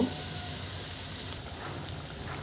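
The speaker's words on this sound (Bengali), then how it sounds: "বড়াগুলো আমি দিয়ে দিয়েছি এখন আস্তে আস্তে মিডিয়াম মিডিয়াম আছে আমি এগুলো ভেজে নেব" Carrot and coriander fritters fry in oil over medium heat, a dense, steady, close sizzle crackling throughout, with no talking.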